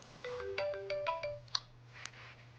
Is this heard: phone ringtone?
yes